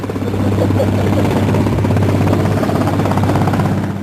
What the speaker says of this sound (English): Suddenly there were engines in the sky.